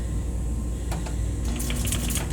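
Sewing machine running a short back stitch while sewing a fabric box cushion, a steady close mechanical whir with brief rapid ticking bursts toward the end.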